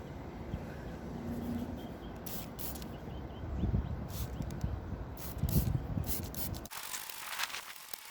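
Garden hose spraying water to rinse the coils of an RV air conditioner, a steady hissing spray close up with scraping, splashing variations, ending abruptly before a brief quieter tail.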